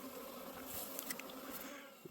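Honeybees at a hive giving a faint, steady, close buzzing drone, with a few brief louder passes of individual bees.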